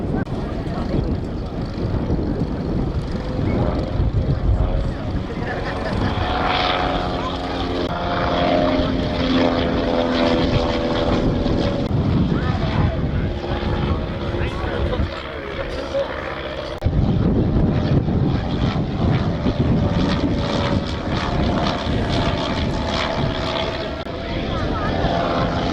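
A WWI triplane flies at an air display at Shuttleworth, its propeller engine droning loudly and steadily throughout, the pitch shifting as it passes, with a voice talking over it.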